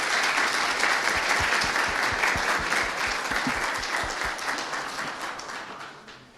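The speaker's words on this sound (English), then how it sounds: "Please give a big applause to Maestra Sevilla." Sustained audience applause fills the room at an aerospace workshop, steady and dense with many hands clapping, holding strong before gradually fading toward the end.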